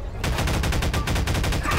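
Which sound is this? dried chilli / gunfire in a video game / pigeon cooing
gunfire in a video game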